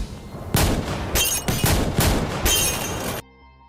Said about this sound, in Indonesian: Untuk tembakan terakhirnya, Kapten Leng sengaja berdiri di depan papan target.